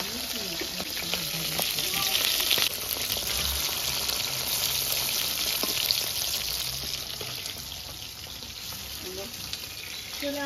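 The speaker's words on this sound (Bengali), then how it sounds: "তেল গরম হয়ে গেছে, এবার আমি মাছগুলো এক এক করে ভেজে নেবো।" Bata fish pieces frying in hot oil: a steady, dense sizzle and crackle runs throughout, close and fairly quiet, with faint clinks and a voice now and then in the background.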